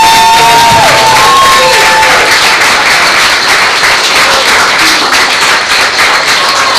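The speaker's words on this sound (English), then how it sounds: "I just want to give Joyce another big round of applause." Audience at a city council honoring ceremony breaking into loud, sustained applause, dense clapping with cheers and whistles, close and continuous throughout.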